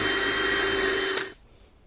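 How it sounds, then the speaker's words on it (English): A power drill whirs steadily at high speed drilling pilot holes in the edges of wood, then stops abruptly, leaving quiet room noise. "I'm just drilling some pilot holes"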